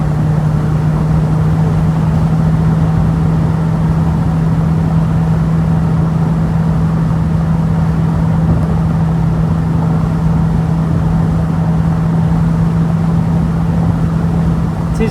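A TVR Chimaera V8 cruising along a very bumpy road into the Derbyshire Peak District gives a loud, steady engine drone with a strong low hum that holds unbroken throughout.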